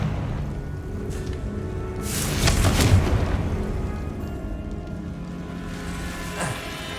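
One Confringo blasting spell explosion in Hogwarts Legacy, a sudden crackling boom that swells and fades over about a second above a steady low rumble, with a faint sharp pop later.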